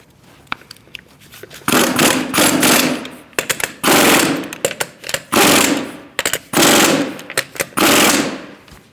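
Pneumatic impact wrench snugging the wheel lug nuts on a 2008-2014 Mercedes-Benz C300 during a front brake job, firing in loud, close bursts of rapid hammering rattle, several short runs separated by brief pauses.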